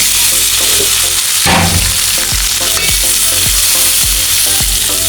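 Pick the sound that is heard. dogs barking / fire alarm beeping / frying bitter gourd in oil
frying bitter gourd in oil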